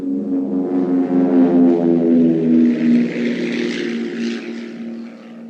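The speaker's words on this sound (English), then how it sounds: "Specially fitted light aircraft can be ready at short notice whenever conditions appear suitable." A specially fitted light propeller aircraft flying for cloud seeding drones steadily with a loud, buzzing engine tone that swells slightly and then eases off, heard on its own.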